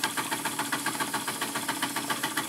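A small model steam beam engine with a flyball governor chuffs and clicks in a fast, even rhythm, close by and alone, roughly ten beats a second.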